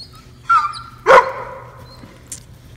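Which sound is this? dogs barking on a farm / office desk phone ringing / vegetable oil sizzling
dogs barking on a farm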